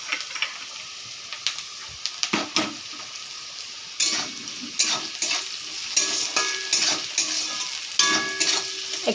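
Curry leaves frying in a pan as spicy semolina is cooked, a steady sizzle broken by repeated scrapes and clinks of a stirring spoon against the metal pan, growing busier and louder toward the end.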